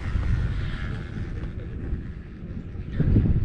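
Strong wind at a mountain top at Snowbird, Utah buffets the microphone in low, rumbling gusts, swelling louder toward the end.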